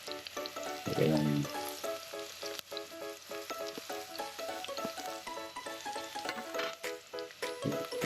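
Ginger sautéed in a pan for chicken tinola, a continuous close sizzle with soft crackles and stirring scrapes throughout.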